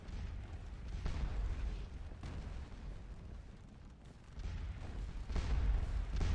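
Cannon and artillery fire in the Napoleonic battle game Scourge of War Waterloo, a steady rumble of distant booms layered into a continuous battlefield roar with no talk.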